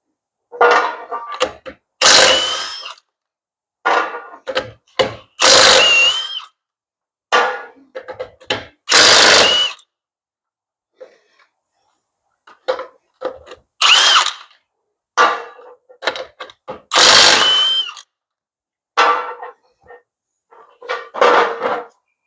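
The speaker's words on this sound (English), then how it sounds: "So I'm going to go ahead and pull these wheels off and get ready to go get these swapped out." A power tool removes the wheels from an Offgrid XL camper ahead of a tire swap. It fires in repeated loud, close whirring bursts, each lasting a second or two, separated by short quiet gaps.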